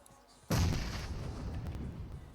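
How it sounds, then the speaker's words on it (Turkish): A grenade goes off in PUBG Mobile, a sudden loud boom halfway through followed by a rumbling decay that lingers to the end, heard alone. "Yeni attım ben bombayı."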